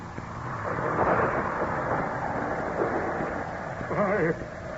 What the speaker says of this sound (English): The storm is increasing again.